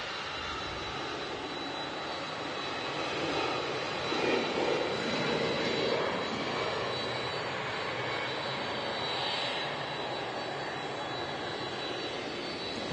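A Boeing 767 jet at Manchester Airport gives a distant, continuous engine roar that swells and fades gently over several seconds, heard alone with no talking.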